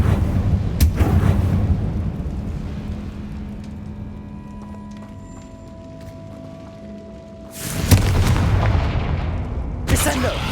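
Confringo fire spells in the video game Hogwarts Legacy go off as loud booming blasts near the start and again around the end, separated by a quieter stretch of low rumble and game ambience.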